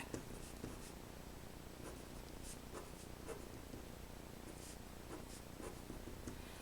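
Chalk or marker strokes on a lecture board, soft scratchy taps and scrapes coming in short irregular bursts, close and fairly quiet against faint room hiss.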